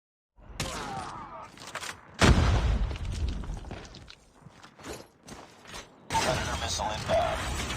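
Sniper gunfire in a Call of Duty Mobile match: a sharp, loud blast cracks out near the start, followed by a busy rumble of battle noise and further shots, with in-game voices mixed in.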